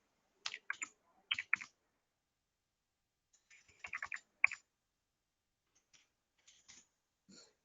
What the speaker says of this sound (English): Just we have to type the diagnosis detail here,